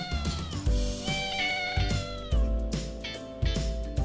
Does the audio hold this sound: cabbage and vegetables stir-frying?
no